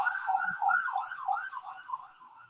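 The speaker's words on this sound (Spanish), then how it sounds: "Esa sirena no la puse yo como para ambientarlo de violencia, ¿no?" A siren wailing outside during an interview, a wavering electronic tone rising and falling steadily, heard from a moderate distance without overlapping speech.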